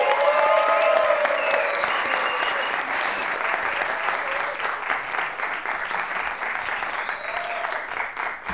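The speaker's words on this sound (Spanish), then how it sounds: "Fuerte el aplauso para Matías Tamayo." Studio audience applause on a Chilean talk show as an actor guest is welcomed, sustained dense clapping that stays loud and steady throughout, with some crowd noise mixed in.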